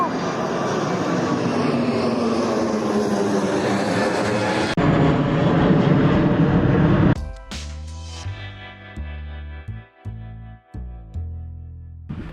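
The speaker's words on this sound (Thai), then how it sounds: "อุ้ยนี่นี่นี่อุ้ยเครื่องบินมาแล้ว" An airplane arrives at Warsaw airport with a loud, steady roar for about seven seconds, then fades into lower tonal engine whine with brief dips.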